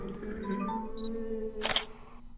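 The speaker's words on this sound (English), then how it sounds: "I heard what sounded like a camera shutter going off." A single sharp camera-shutter click snaps out, close and brief, after a quiet stretch of faint electronic tones.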